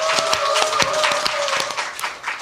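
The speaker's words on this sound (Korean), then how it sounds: "여러분의 힘찬 박수와 함께 시작하겠습니다" A studio audience at a Korean current-affairs talk show claps vigorously to open the program, with continuous bright applause over a faint sustained tone.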